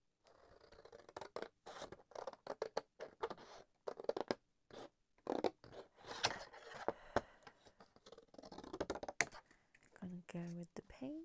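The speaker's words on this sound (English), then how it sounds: "Cut off that pink strip" Scissors snip off a pink paper strip for a sewing journal with quick, close, repeated crisp cuts and scratchy rustles, and a voice speaks briefly near the end.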